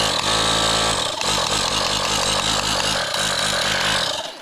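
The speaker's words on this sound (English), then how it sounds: "today's video might need this air compressor." A Bauer handheld battery-powered air compressor, running on a 1.5 amp hour battery, chugs with a rapid rhythmic piston pulse and buzz after a brief start, loud and close.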